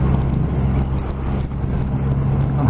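A 2020 Triumph Rocket 3 2500 cc motorcycle rides in fourth gear on a road, giving a loud, steady engine drone mixed with wind and road rush throughout.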